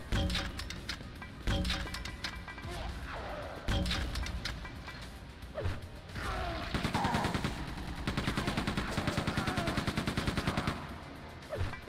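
Rapid machine gun fire from the Quake II video game, with sharp bursts early on, then a sustained, dense run of fast shots, loud and close against busy game sounds.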